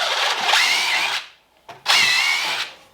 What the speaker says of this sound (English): I'm just going to use these deck screws.